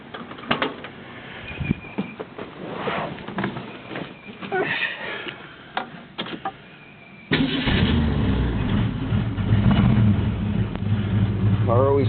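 A 1970 Ford Mustang Grabber on new 15-inch Magnum 500 wheels cranks and catches partway through, then settles into a loud, steady idle. Earlier stretches hold handling noises and some talk.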